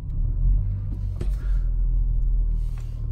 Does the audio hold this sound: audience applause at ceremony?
no